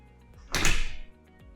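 A door on spring-loaded hinges in a home's garage swings closed by itself, ending in a single quick, fairly close thud with a short rattle and no talk over it.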